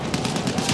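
Enemy machine gun fire in the Battlefield 1 video game, a dense, rapid stream of loud, evenly spaced shots hammering without pause for under a second.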